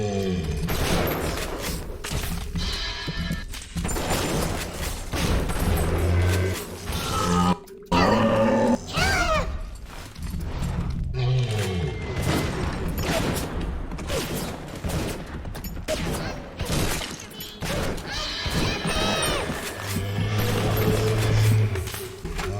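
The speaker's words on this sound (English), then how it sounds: "we're gonna use all 4 of our armor-piercing rounds" Armor-piercing rounds fired in Bioshock, heavy gunshots in rapid bursts and scattered single blasts, mixed with grunts and mechanical clatter during a close, loud fight.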